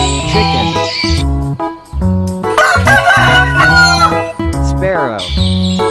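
A rooster crows loudly and repeatedly among farm animal sounds, its harmonic calls layered over other clucking fowl and animal noises in a busy, close mix.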